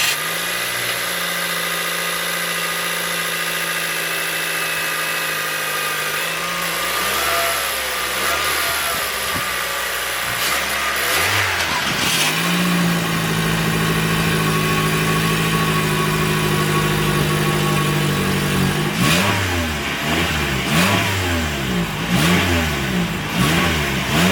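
A 2026 Toyota Corolla Cross with its 169-horsepower inline four-cylinder idles steadily, then revs up several times in quick bursts, the engine note rising and falling close by with no talking.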